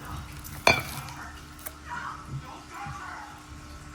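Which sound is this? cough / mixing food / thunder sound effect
mixing food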